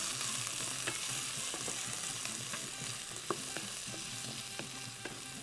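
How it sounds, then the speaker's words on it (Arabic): Food fries in a pan with a steady, close sizzle, punctuated by soft, irregular clicks and scrapes from stirring throughout. "وهي بتتحمر كده عشان الريحه كمان تبقى احلى واحلى واحلى"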